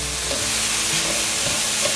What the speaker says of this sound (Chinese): 快速拌炒。